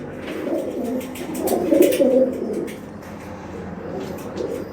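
Pet pigeons coo in soft, repeated low calls close by, rising briefly as the birds take off and fly.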